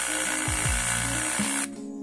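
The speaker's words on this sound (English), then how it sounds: "drilling holes into the boards, marking the floor with paint through the hole in the board so you know exactly where to drill by drilling into the concrete" A power drill bores holes through boards into a concrete floor while home MMA mats are being laid, a loud continuous whine dipping briefly twice, then cutting off to a quieter hum near the end.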